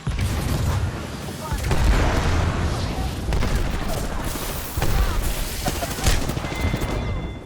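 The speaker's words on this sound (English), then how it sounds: "Listen up, I'm getting shot at." Rapid bursts of video game gunfire crackle and boom through the whole stretch, with dense volleys and heavy impacts at a steady, loud level.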